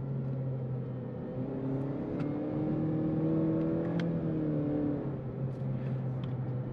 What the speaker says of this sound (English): But even half throttle, you get a nice response from the engine.